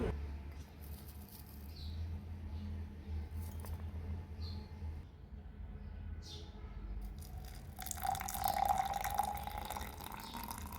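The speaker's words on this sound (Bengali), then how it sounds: "এভাবে গরম জলটা দেওয়ার পরে" Hot water poured over dried butterfly pea flowers with ginger and clove for tea, a steady close trickle and splash under faint dripping, the pour growing brighter and louder toward the end.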